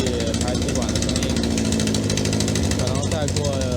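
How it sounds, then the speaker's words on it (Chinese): A vintage car idles its exhaust at a Paris classic car summer parade, giving a loud, steady, throbbing rumble that is close and unbroken, with people talking over it. "听这个排气管的声音"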